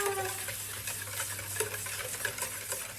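Custard for galaktoboureko being whisked in a pot, a steady close stirring and scraping with a faint sizzle-like hiss throughout, no voices.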